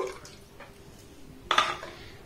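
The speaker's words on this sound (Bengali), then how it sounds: "এবার দেখুন এই মিক্সির জারের মধ্যে আবারও আমি হাফ কাপ লিকুইড দুধ দিয়ে দেব।" Liquid milk is poured into a mixer jar: after some quiet kitchen clatter, a sudden splashing gush starts midway and runs to the end, close and moderately loud.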